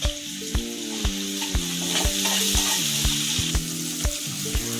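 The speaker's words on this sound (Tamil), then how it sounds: "இஞ்சி பூண்டு பேஸ்ட் ஒரு அரை ஸ்பூன் சேர்த்து வதக்கிக்கலாம்" Ginger garlic paste sizzles steadily in oil in a pan while a spoon scrapes and stirs in regular strokes, close and moderately loud, with no talking.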